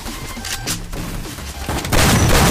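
In a Free Fire tournament match, loud bursts of gunfire crackle in rapid succession and swell into a heavier, denser barrage toward the end, with no talking.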